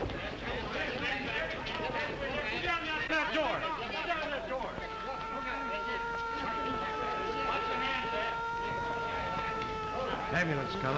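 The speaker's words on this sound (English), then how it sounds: "Ambulance coming." A 1930s ambulance siren wails over the background, its rising and falling tone settling into steady held pitches partway through, amid crowd noise and voices.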